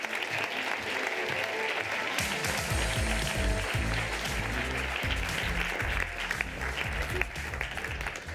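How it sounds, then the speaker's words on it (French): An audience breaks into sustained, loud applause that swells and continues for several seconds, full of dense clapping from many hands. "je vous demande d'applaudir Axel Saint-Cyrel"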